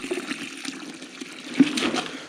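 Ice-cold water is poured while brewing beer at home, an uneven, close gushing and splashing that swells and dips, with no one talking.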